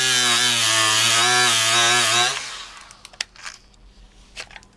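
A DeWalt DCG426 cordless die grinder runs on a 1.5 Ah battery with a loud, steady high-pitched whine for about two seconds, then spins down and stops, leaving faint scattered clicks and handling noises.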